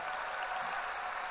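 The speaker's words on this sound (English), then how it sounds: "Let's give them another round of applause." Steady, dense applause from a high school graduation audience fills the whole moment, a continuous wash of clapping with no speech over it.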